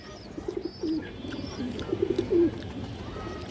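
A pair of stone-eyed pet pigeons coos softly, a few low, burbling calls repeating over faint background noise.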